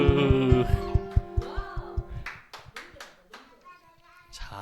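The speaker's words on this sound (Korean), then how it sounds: "박수." A group claps in a steady rhythm during an upbeat church worship song, the beats sharp and close at first, then loosening into scattered claps as voices and music carry on.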